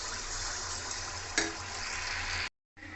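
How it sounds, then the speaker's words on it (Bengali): Palm-fruit malpua batter sizzles in hot oil in a kadai, a steady close crackling fry with one brief clink, cutting out briefly before resuming. "এবার এটা লাল লাল করে ভেজে নেব।"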